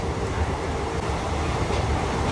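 A DEMU passenger train, number 77204, pulls into Matkera railway station with a loud, steady rumble and rolling wheel noise that fills the whole moment, close by and without talk.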